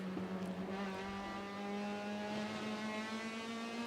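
A Honda race car at Sebring International Raceway accelerates down the long straightaway, its engine whining in a steady rising pitch, heard at a moderate distance over low track ambience.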